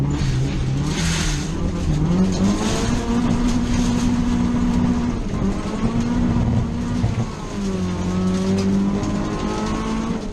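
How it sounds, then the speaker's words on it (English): Race cars at Brands Hatch circuit roaring past under acceleration, loud engines rising and falling in pitch as they pass, a dense continuous motorsport drone with shifting tones. "he's got a bit of a slide on two, so Bonnie's alongside him now, and Bonnie's going to accelerate past"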